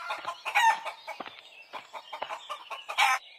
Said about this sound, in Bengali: তোমার খামারে তো দেখছি অনেক মুরগি